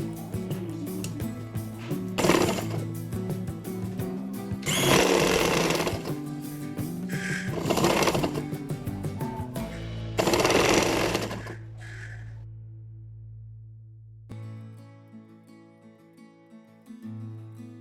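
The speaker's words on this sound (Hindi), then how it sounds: "इस तरह से एक पैर की सिलाई लगा लेंगे" A sewing machine stitches along one leg of a patiala shalwar, running in several close, loud bursts of rapid mechanical chattering with short pauses between, then stopping before a soft hum remains.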